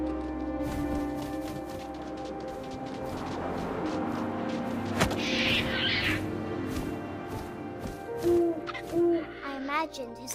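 An owl hoots in the video game What Remains of Edith Finch, a few soft low hoots late in the clip over steady wind and a narrated voice.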